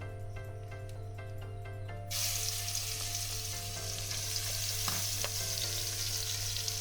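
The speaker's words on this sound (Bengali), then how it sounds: "এবার আমি চিংড়ি মাছটা ভেজে তুলে নেব।" Prawns coated in salt and turmeric hit a hot pan and start a loud, steady sizzle that carries through to the end, with a few faint clinks on top; no one speaks.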